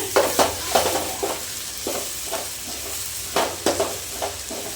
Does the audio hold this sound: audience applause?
no